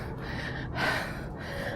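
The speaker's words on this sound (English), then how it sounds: "I have a feeling this clip is mostly just me breathing heavy" A runner breathes heavily outdoors, with loud, rhythmic, close-up gasping breaths and a sharper inhale near the middle, heard alone with no talking.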